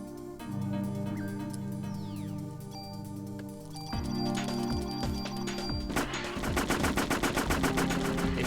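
Rapid gunfire aimed at scorpions in the PlayStation game Parasite Eve, with sustained bursts of shots that grow denser and louder toward the end over a droning game soundtrack.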